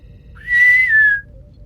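A single clear whistled note from a person, rising briefly and then holding steady before sliding slightly down, loud and close over a low background hum.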